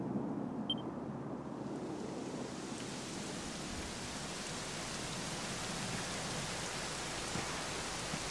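Steady rain pours throughout in Dragon Quest XI S, a continuous broadband hiss of drops falling on surfaces, even and unbroken from start to finish with no voices.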